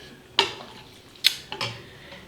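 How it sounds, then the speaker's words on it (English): A spoon stirring vegetable soup with beef, drained peas and corn in a pot, producing three or four distinct metallic clanks against the pot's side, separated by quiet pauses. "You want to stir that up."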